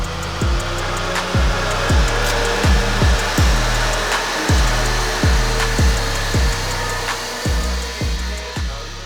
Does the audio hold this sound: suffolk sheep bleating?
no